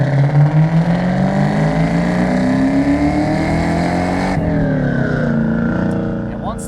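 A supercharged 1998 Ford Cobra with a 4.6 V8 and 22K miles accelerates on a test drive, its engine note climbing steadily as boost builds, then shifting and pulling again, loud and close from inside the car.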